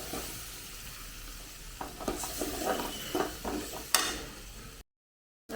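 Beaten eggs are stirred and mixed in a bowl, a few seconds of soft wet clicking and scraping strokes at close range, ending abruptly in silence.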